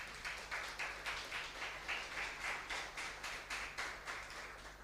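Steady applause from a church congregation glorifying God, a dense even patter of many hands carrying on through the whole stretch at moderate loudness.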